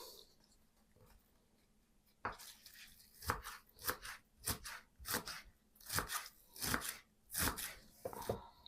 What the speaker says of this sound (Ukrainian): Нарізаємо цибулю.